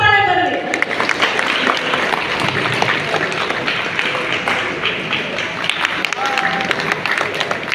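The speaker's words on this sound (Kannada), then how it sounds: "ಸೊ ಜೋರಾದ ಚಪ್ಪಾಳೆ ಬರಲಿ" An audience at a Rapido captains' celebration breaks into loud, sustained applause. Dense clapping fills the whole stretch at a steady level, with a brief voice at the very start.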